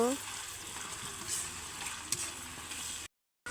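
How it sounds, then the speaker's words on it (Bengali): A ginger, garlic and cumin paste fries with beef on a clay stove, giving a low continuous sizzle with faint scraping from stirring, then a brief gap of silence. "তারপর আদা বাটা, রসুন বাটা, জিরা বাটা। এখন নাড়াচাড়া করব।"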